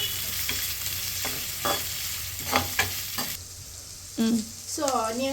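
Onions fry in a hot pan over high flame with a steady low sizzle, broken by several sharp stirring scrapes and clinks, and a brief voice near the end.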